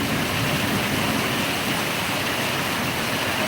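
Heavy rain soaks a farm field near Miraj, and floodwater rushes past as a dense, loud, unbroken roar with no voices.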